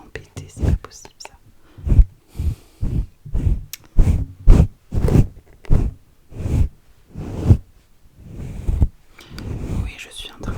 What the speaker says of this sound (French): je suis en train de brosser mon micro.